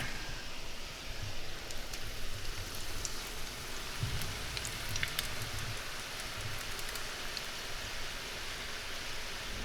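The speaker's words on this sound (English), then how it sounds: "You can see they don't fry as aggressively because a lot of that water has evaporated out of the potato" Potatoes for French fries fry in hot oil with a dense, even, rain-like hiss and fine crackles. The bubbling is gentle rather than aggressive and continues steadily throughout.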